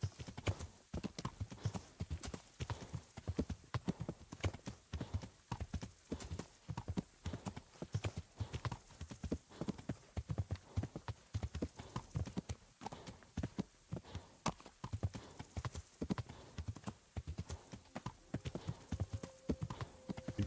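A horse's hooves clip-clop steadily along a road in the medieval video game Kingdom Come: Deliverance, a continuous even rhythm of hoofbeats at low volume.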